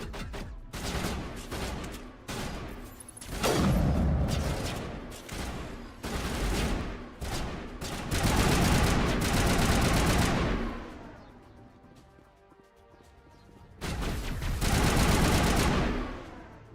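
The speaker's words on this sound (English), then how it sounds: "Oh, I'm taking fire. Geth trooper." Geth troopers open fire in Mass Effect, with sustained bursts of sci-fi weapon fire and sharp impacts rattling in waves, a quieter lull in the middle, then another loud volley near the end.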